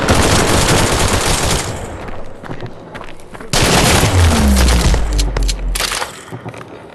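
Loud, continuous machine gun fire in a close-quarters first-person shooter match, with dense rapid bursts filling the whole stretch, a brief lull midway, and low booming impacts near the end.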